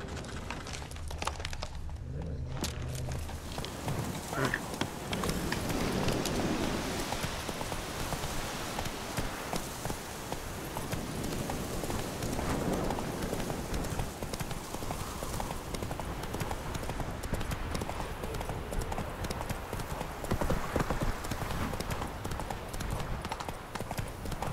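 Roach, the horse in The Witcher 3, gallops in a steady, continuous clip-clop of hooves at close range, with only faint background sound.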